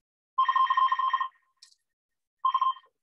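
A telephone rings with two bursts of an electronic trilling bell, a long ring then a shorter one after a pause, loud and clear in an otherwise quiet room.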